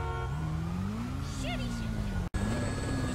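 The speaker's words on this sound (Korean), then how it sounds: "미국 로스앤젤레스 인근 도로에서 오토바이 한 대가 빠른 속도로 질주합니다" A motorcycle speeding along a road near Los Angeles in GTA V, its engine droning steadily and rising slightly in pitch, with a brief dropout near the end and a news narration voice over it.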